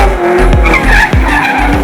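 A drift car skidding at a motorsport festival in Waimate, its tires squealing loudly in repeated wailing sweeps over a roaring engine, close and intense.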